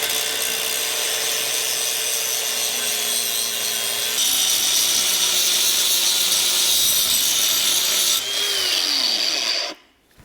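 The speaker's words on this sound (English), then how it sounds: "let's go ahead and put that in the vise and start grinding away" Power grinder working a metal bar clamped in a vise for a seat rail extension, a continuous close whirring grind with a shift in load midway and a spin-down before it cuts off.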